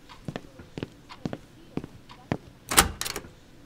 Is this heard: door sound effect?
yes